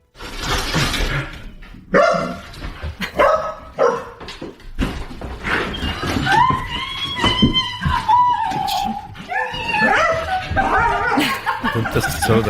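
A female dog makes a run of varied vocal sounds, whining, yelps and warbling howl-like tones, close and fairly loud, with bits of laughter mixed in.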